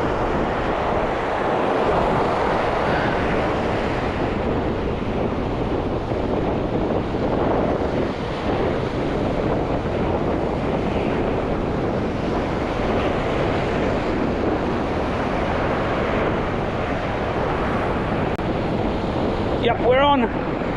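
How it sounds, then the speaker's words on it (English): Strong wind buffets the microphone on a rocky coastline while waves surge and wash steadily beneath, a constant loud roar across the whole stretch with a brief crackle near the end. "It's pretty windy."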